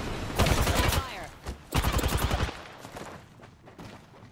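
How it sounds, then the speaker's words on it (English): Bursts of rapid automatic gunfire in a sci-fi shooter video game, two loud sustained volleys followed by scattered fainter shots and a quieter ambient tail. "They're shooting at me"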